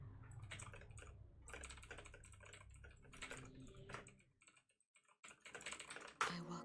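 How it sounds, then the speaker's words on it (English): Rapid typing on a computer keyboard comes through as clusters of sharp key clicks in irregular bursts, with a short pause before a final loud clack. "I'm a speed typer."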